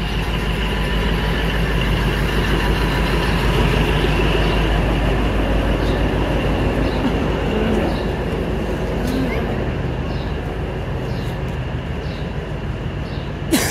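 A train at Banihal station in the mountains of Kashmir, a steady rumbling engine drone with faint rail clatter and a few higher squeaks, continuous at moderate loudness.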